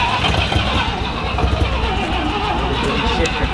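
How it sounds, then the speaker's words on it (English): Mazda Cosmo engine revving under throttle, heard from inside as a passenger, a loud continuous engine roar with a steady, slightly rough rhythm and no clear pauses. "Give some gas, Tom."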